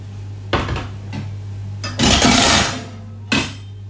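A pan of vegan mushroom and broccolini noodles lifted off the heat, with several loud close clanks and scrapes of metal and a burst of hiss over a low steady hum.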